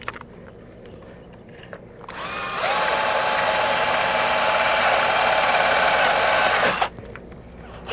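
A power drill drives a screw into an aluminum boat rub rail, a steady high whine running about four seconds after a brief start, then stopping abruptly; quiet background otherwise.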